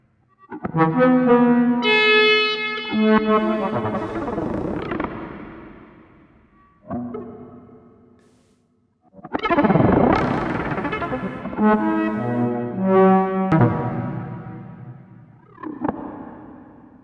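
Bursts of modular synthesizer sound swell up loudly and decay away, rich buzzy tones with wobbling pitch, separated by short silences.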